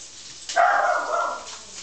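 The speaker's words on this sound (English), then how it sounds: "I don't know what he's barking at this point." A dog named Duke gives a single drawn-out bark or yelp, fairly close and clear against a quiet indoor background.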